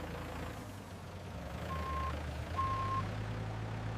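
A forklift backs up at a factory warehouse handling burlap sacks. Two clear reversing beeps sound over a steady low engine rumble, fairly close and with no talk.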